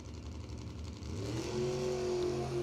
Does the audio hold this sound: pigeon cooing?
no